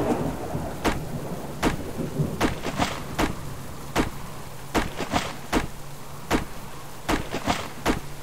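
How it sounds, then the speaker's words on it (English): A wild thunderstorm in the survival video game Subsistence: steady rain hisses throughout while sharp cracks of thunder strike repeatedly at irregular intervals, loud and close, with no voices. "What a lovely wild storm to end the day."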